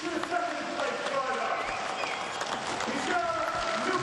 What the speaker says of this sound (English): Big applause, especially from the Gabriele fan club down there